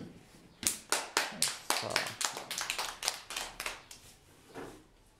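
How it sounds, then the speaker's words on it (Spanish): A small classroom group claps for a student after a singing turn, a quick burst of close, sharp handclaps that starts after a brief pause and tapers off over about four seconds. "Excelente, un aplauso para Hernán."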